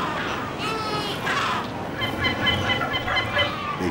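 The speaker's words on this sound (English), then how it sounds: "The kelp gulls are not after the babies" Kelp gulls squabble over afterbirths, giving harsh, overlapping squawks and caws in repeated bursts that sit moderately close against a constant background hiss.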